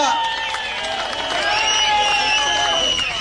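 Crowd at an outdoor election campaign rally for a JD(S)-BJP alliance candidate in Karnataka, cheering, whistling and clapping loudly and continuously, a dense roar of voices with sustained clapping filling the whole moment.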